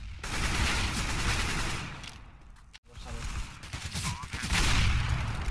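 Rapid gunfire from an AWP sniper rifle and other weapons in the CS:GO video game, continuous and dense with a brief dropout midway, loud throughout and mixed with talking players.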